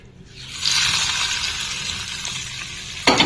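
Hot tempering hits ponnaganti leaf and tomato chutney with a loud, close sizzle that rises quickly and hisses on steadily, ending with a short utensil clatter.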